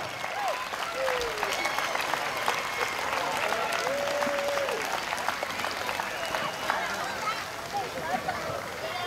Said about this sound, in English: Come on, a little more applause.